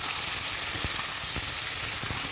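Jackfruit and potato pieces sizzle steadily in a hot pan, a dense continuous hiss with a few soft thuds as a spoon turns them, close and even throughout.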